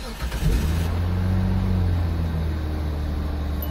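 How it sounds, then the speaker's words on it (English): A 2003 Hyundai Santa Fe engine starting after a fuel pump replacement catches within the first half-second, then settles into a steady, loud, low idle that runs without pause. "The car starts up just fine."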